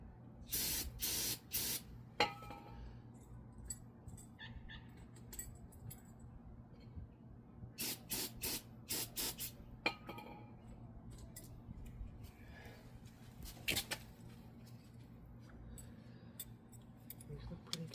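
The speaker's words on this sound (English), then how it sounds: "And blast these with some brake cleaner." Brake cleaner sprayed onto brake parts of a Ford Expedition or F-150 in short hissing bursts, several quick blasts near the start, a cluster in the middle and another later, with light metallic clinks between.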